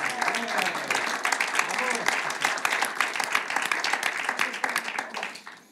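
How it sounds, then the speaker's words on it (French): An audience at a French debate on Europe and the Uyghurs applauds the candidates; loud, crisp clapping continues throughout with voices audible underneath, then trails off at the close. "Alors applaudissons les candidats."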